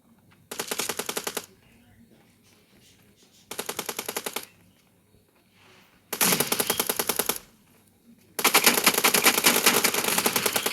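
Automatic gunfire in the mobile shooter PUBG Mobile during a team deathmatch, four rapid bursts of close, loud rounds separated by short quiet gaps, the last burst the longest and heaviest.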